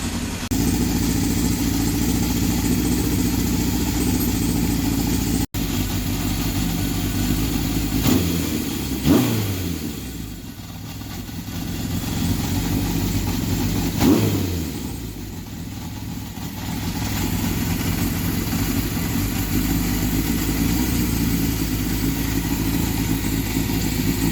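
Honda CB750 motorcycle engine idling while warming up before a carburetor sync, a steady close running note with a couple of brief revs rising and falling midway, no voices.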